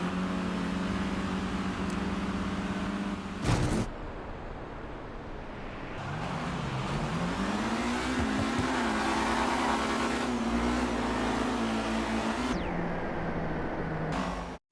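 No-prep drag racing cars launch hard off the line, a loud sustained engine roar rising and shifting in pitch as they accelerate away, with a brief break and then more continuous engine noise.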